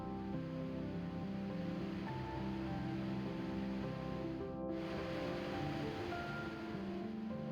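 Steady, broad roar of rushing water from Sunwapta Falls in Alberta, constant and unbroken throughout, with a faint breezy hiss over it.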